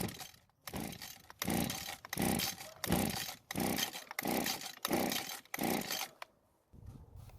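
Someone repeatedly yanks the pull-cord of a Stihl string trimmer that sat for years with old fuel in the tank. About eight rhythmic rasping pulls come close together, and the engine never catches between them. No voices.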